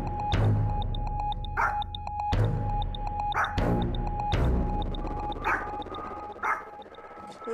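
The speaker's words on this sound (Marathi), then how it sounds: "एवढं का भुंकतोय माझ्यावर" A dog barks repeatedly, loud and close, in sharp bursts over an indoor scene with tonal beeps or music in the background, from a Marathi TV serial.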